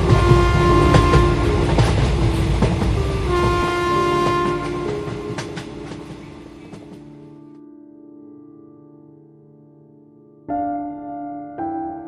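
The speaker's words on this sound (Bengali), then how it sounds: "মুকুন্দমণিপুরে ট্রেন আসতেই ট্রেনের মধ্যে উঠে বসলো।" A cartoon train arrives in a short sound effect: a loud, dense rumble with horn-like tones that fades down into a sustained low drone, followed by two brief closer horn-like blasts at the end, with no talking.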